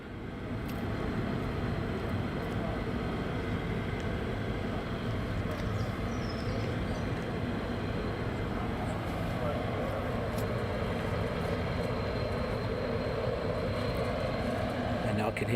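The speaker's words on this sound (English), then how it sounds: "can hear another aircraft starting up in the background" An aircraft engine starts up in the background at RAF Lakenheath, a steady droning roar that holds throughout with a faint rising whine under a voice talking over it.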